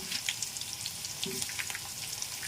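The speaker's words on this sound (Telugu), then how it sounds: "పచ్చెనగపప్పు వేస్తున్నానమ్మా" Chana dal frying in oil for kanda pickle makes a faint, steady crackling sizzle with scattered small pops, heard close and alone.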